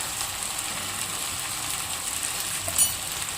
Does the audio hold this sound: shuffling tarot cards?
no